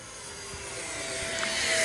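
A Freewing L-39 Albatross 80mm electric ducted-fan RC jet cruises at half throttle, giving a steady, airy whine with faint tonal lines that swells slightly as it passes.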